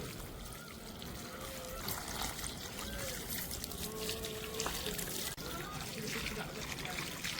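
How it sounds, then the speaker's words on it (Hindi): Water splashes and trickles onto dry soil as potted plants are watered at home, a continuous close pouring and dribbling sound at moderate level. "अब सींचा दे रहे पौधा, बड़ी मट्टी खराब हो जाती भैया।"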